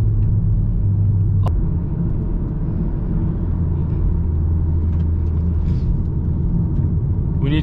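A Golf R 7.5 accelerating hard in second gear on a night drive, a steady loud engine drone and rumble heard from inside the cabin, with no talk.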